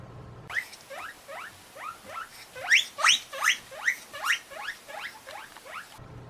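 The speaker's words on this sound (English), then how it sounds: "Weaking is simply a guinea pig trying to get your attention." A guinea pig wheeks over and over in rapid, high-pitched squeals that grow louder and more insistent, rising in bursts across several seconds.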